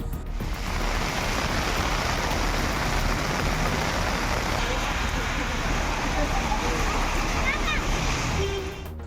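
Heavy rain pours steadily as a broadband hiss of drops splashing on surfaces, loud and continuous throughout with no distinct thunder clap standing out.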